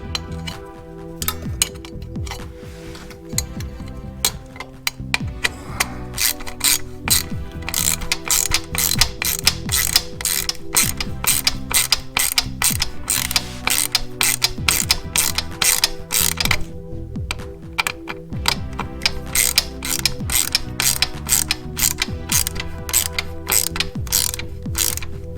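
Ratchet wrench clicking rapidly in bursts while tightening a skid plate bolt on a Can-Am Ryker, close and crisp, with brief pauses between runs of clicks and no talking.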